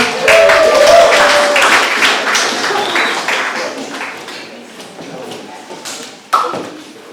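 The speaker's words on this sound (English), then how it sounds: "Give him a big round of applause" An audience at a local poetry event breaks into loud applause and cheering for a poet, strongest at the start and gradually fading, with a few voices and scattered claps near the end.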